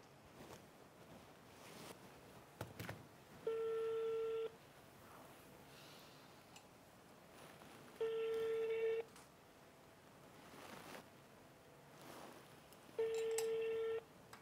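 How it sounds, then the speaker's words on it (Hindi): A phone rings in three long electronic bursts spaced several seconds apart, with quiet background noise and faint talk in between. "कब से फोन बज रहा है"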